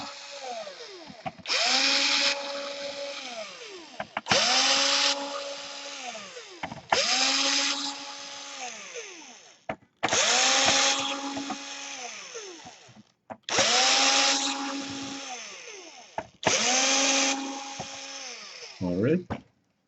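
Small electric screwdriver unscrewing screws on an Asus laptop, six short whirring bursts with rising and falling pitch, separated by brief pauses.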